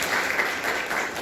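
Audience clapping at a Brahma Kumaris Diwali gathering, a brief dense burst of applause from a crowd, steady and fairly loud throughout.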